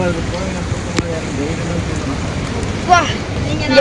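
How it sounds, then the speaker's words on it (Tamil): Heavy rain pours in a dense, constant hiss with gusts of wind in Bahrain, and a voice speaks briefly under the downpour. "மழையெல்லாம் பார்த்தாங்க"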